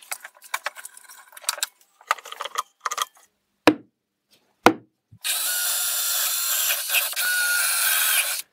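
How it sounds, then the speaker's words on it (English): A power drill whirs steadily through two stacked wooden plates for several seconds after a few scattered clicks and knocks of handling, close and fairly loud. "therefore I will drill them both together at the same time"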